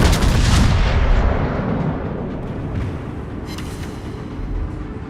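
Battleship main guns firing in World of Warships, including the Gneisenau, a heavy booming blast with a long rumbling roll that fades slowly, loud and close with no talk.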